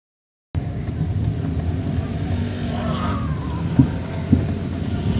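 A car being driven during a driving lesson, its steady engine drone continuous and fairly loud throughout, with a couple of brief knocks or bumps late on and faint sounds around it.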